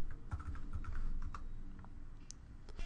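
Rapid typing on a computer keyboard while entering patient details into electronic health record software: a steady stream of close, crisp key clicks with no voices.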